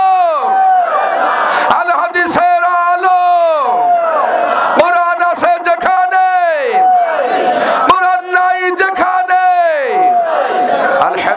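A large crowd at a religious gathering chants takbir together in loud, repeated call-and-response waves, with many voices rising and falling in a steady rhythm from start to finish.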